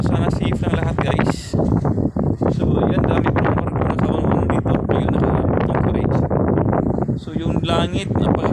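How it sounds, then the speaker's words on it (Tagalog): Strong wind roars and buffets the microphone continuously, loud and close, near visible waves under a darkening sky, with a voice speaking underneath the gusts. "so hangin, grabe, lakas ng hangin"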